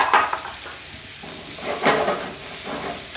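Soaked cashews tipped into a pan of frying onion and tomato bring metallic clinks and scrapes, then a gentle sizzle, close and clear.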